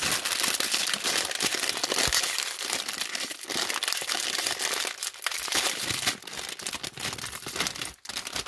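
Close, continuous crinkling and rustling of a plastic bag of cheese curls being handled, crackling loudly for several seconds.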